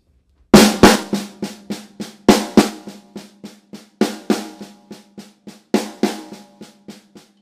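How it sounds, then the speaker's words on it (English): Half-time drum groove built on a six-stroke roll, played solo on a kit: crisp, ringing strokes in a repeating pattern with periodic louder accented hits, close and clear with no voices. "This one's based on a 6-stroke roll."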